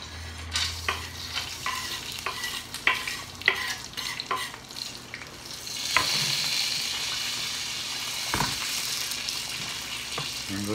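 Turkey pieces with onions and lemons being stirred in a pan, with a steady sizzle and frying hiss that swells after a few seconds, broken by repeated scraping clacks of a utensil against the pan, close and fairly quiet.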